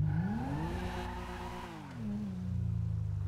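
A Toyota Mark X or Honda Civic X engine with its stock exhaust revs up loudly, the pitch rising and holding high before dropping back to a steady idle-like drone, close and continuous.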